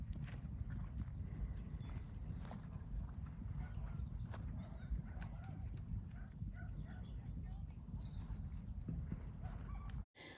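Hooves of a horse cantering around an eventing jump course thud and clip-clop steadily over ground, with faint outdoor noise and occasional knocks, running continuously until a sudden cutoff near the end.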